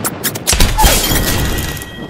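A grenade explodes in Apex Legends gameplay, a short loud burst with crackling debris and a rumbling tail that fades over a couple of seconds.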